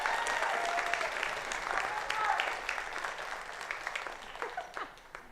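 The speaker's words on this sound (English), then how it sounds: "How about a round of applause for Caleb on trombone?" Audience applause at a high school music concert after a trombone solo in the band portion, a dense wash of clapping that is loud at first and gradually thins and fades out.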